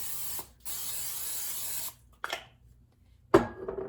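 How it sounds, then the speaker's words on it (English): Pam aerosol cooking spray hisses in one long close burst onto squash on tin foil, then a short puff, followed by a clatter of handling. "I'm just gonna spray them with Pam."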